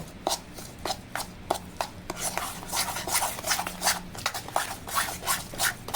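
Semolina cake batter soaked with all the ingredients is worked firmly by hand in a bowl, giving a run of soft, wet slaps and squelching rubs in an irregular rhythm, close and alone.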